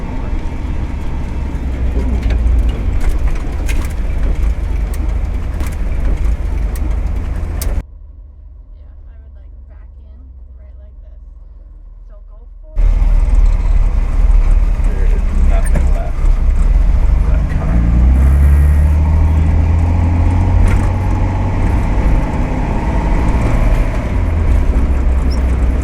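A 1961 Chevrolet Corvair drives down a desert road, its rumble steady and loud, with heavy wind buffeting throughout and a brief stretch of near silence midway before the engine and road noise return.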